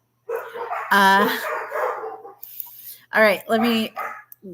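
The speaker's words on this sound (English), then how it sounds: "the dozen poodles that live next door barking" Poodles next door bark in sharp, yipping bursts, loud and close to the mic, mixed in with a woman's brief speech.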